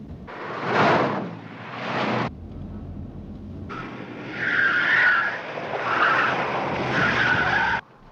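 A car skids hard around a corner with loud, drawn-out tyre squeal in two bursts, a short pause, then a longer screeching slide before it cuts off.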